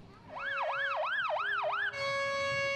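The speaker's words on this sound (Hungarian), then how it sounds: "az a szirénázó tűzoltó autóra mászott fel" A fire engine siren wails at a Children's Day event, sweeping up and down in a rapid yelping pattern about four times, then switching to a steady held tone. It sounds loud and near over a faint crowd murmur.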